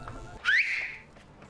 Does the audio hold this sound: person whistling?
yes